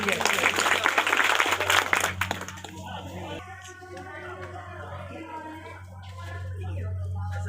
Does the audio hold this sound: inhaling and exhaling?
no